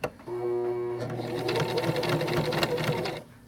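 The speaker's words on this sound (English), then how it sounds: "You're going to use your reverse stitch and you're going to back stitch to the start." A sewing machine back-stitches a lanyard, giving a close, continuous rapid mechanical hum and rattle for about three seconds after a brief click at the start.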